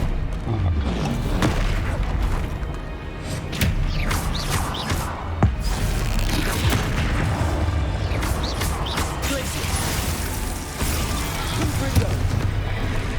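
Confringo explosive spell blasts in Hogwarts Legacy combat, repeated booming impacts and crashes scattered through a busy fight, with a voice casting spells between them.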